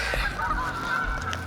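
Geese honk loudly while flying overhead outdoors, a quick cluster of nasal calls close by over a short burst.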